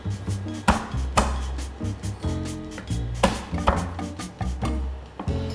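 Fried candlenuts for a Balinese spice paste are cracked with a series of sharp, close knocks and crunches at an uneven rhythm, with no talk.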